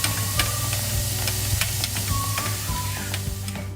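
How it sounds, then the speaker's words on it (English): Steady sizzling of food frying in a pan, a continuous crackling hiss with occasional pops and small clinks, close and even throughout. "Frying means to cook something over heat."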